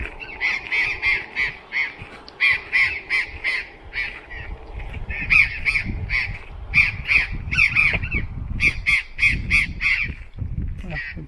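A flock of parrots perched on power lines calls repeatedly with harsh, rasping squawks in bursts over several seconds, heard outdoors at moderate distance with low rumbling background noise.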